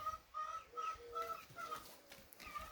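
Chickens cluck and chicks peep repeatedly in the background of a village farmyard with a henhouse, a steady chorus of short calls over a low outdoor hum, fairly distant.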